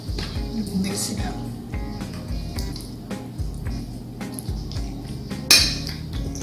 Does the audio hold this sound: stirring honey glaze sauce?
yes